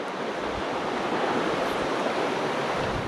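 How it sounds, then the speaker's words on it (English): Wind blows beside a small stream where someone is fly fishing, a steady broadband rush of gusting air and flowing water that stays loud and even throughout, with no voices. "especially in this wind"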